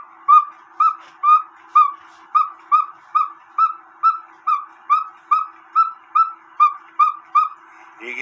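A cuckoo clock bellows whistle sounding with its screw hole covered by a thumb, giving a run of about fifteen short, evenly paced hooting tones in a steady pulsing rhythm, close and clear.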